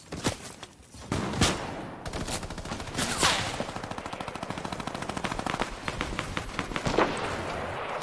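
Rapid automatic gunfire in Fortnite, a few sharp single shots giving way to a sustained, evenly spaced burst of shots that stays fairly close and dominant, with no talk.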